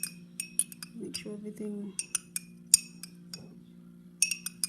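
Shea butter lotion scented with lavender oil is stirred in a glass container, giving a run of light clinks and taps of utensil against glass, near and fairly clear, with a brief spoken remark partway through.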